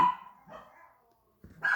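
Dogs in a home bark in a few short, fairly faint bursts separated by brief pauses.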